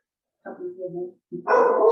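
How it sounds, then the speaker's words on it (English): A pet dog gives a few short, close barks and yips, with one brief pause between bursts, in an otherwise quiet room. "Hopefully my dog barking isn't getting your dogs excited at home."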